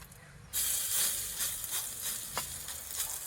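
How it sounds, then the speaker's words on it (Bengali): Lentil fritters (bora) fry in oil over low heat, giving a steady broadband hiss and sizzle that rises sharply after a brief quieter start and continues with small crackling bursts. "ওই তেলের মধ্যেও বাকি বড়াগুলো একইভাবে ভেজে নেব।"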